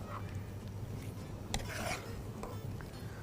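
Minced meat qeema is stirred and fried in a pot, giving faint, soft rasping scrapes of a spoon against the pot over a low background, with a brief louder scrape midway.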